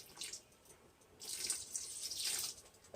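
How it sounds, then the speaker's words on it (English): Vinegar is poured into a pot of chitlins, a close splashing trickle of liquid that starts, pauses briefly, then runs again more fully for a couple of seconds. "we're going to put about 1/4 of a cup of vinegar in there"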